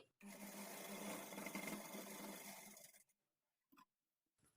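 A sewing machine runs steadily for about three seconds while stitching a blouse, a loud continuous motor whirr, then stops, leaving a couple of faint brief knocks.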